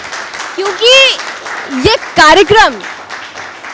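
Audience applause at a Raksha Bandhan event held with soldiers: steady crowd clapping as a continuous background wash beneath a man's loud, expressive speech and sung vocal phrases.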